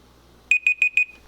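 A kitchen timer beeps four times in quick, even succession, loud and close, timing kale blanching, then stops into quiet.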